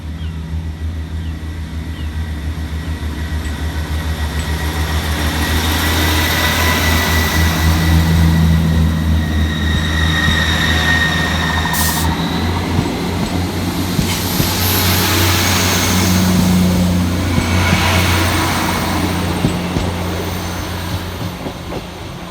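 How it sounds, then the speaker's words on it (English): Scotrail class 158 diesel units 158-708 and 158-741 pull away from North Queensferry station on the Fife Circle, a steady close engine drone and rail rumble building and holding throughout, with no talk. "Next up to depart from the station 6 minutes late is 158-708 and 158-741, working the 1840 Scotrail service from Glenrothes"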